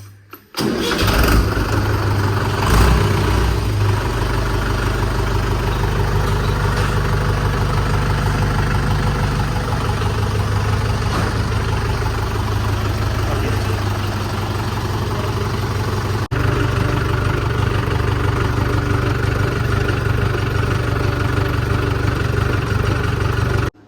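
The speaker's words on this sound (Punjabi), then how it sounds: "ਕੁੰਡਾ ਖੋਲੀ ਤੇ ਟਰੈਕਟਰ ਨੂੰ ਕਰੀ ਸਟਾਰਟ" A tractor engine cranks and catches, then settles into a loud, close, steady diesel idle with a deep low rumble that runs on for about twenty seconds.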